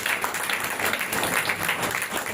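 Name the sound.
congregation applause at revival meeting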